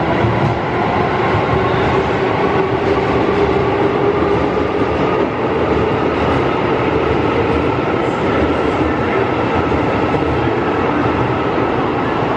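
A Japanese bullet train rumbles loudly and continuously along the rails from inside a carriage, a steady rolling roar with faint rhythmic clatter.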